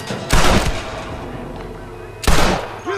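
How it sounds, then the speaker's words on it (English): Two loud gunshots in Red Dead Redemption ring out about two seconds apart, each a sharp close blast with a rolling echoing tail, followed by a brief voice. "I'm pretty sure I shot you in the neck"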